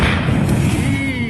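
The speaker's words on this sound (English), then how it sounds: "And there's a huge explosion, and just look at the size of that explosion." A huge explosion of a large reusable rocket, about the size of a Falcon 9 first stage, rolls out as a deep, sustained rumbling boom with thudding low energy, loud and continuous from start to finish.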